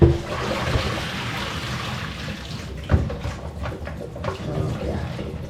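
Cross-stitch fabric is swished and rinsed in a sink of water, giving a continuous close sloshing and splashing with a few sharper splashes partway through.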